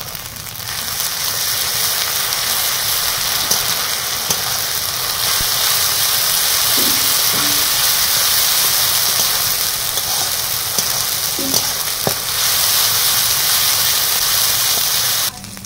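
Ginger-garlic paste sizzling among reddened frying onions for a spicy sea chital fish curry, a loud, steady hissing sizzle that holds evenly throughout, with a few faint utensil taps and no speech.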